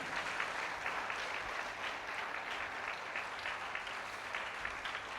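A worship congregation claps loudly and continuously, many hands blending into a thick, sustained burst of applause with no voices on top.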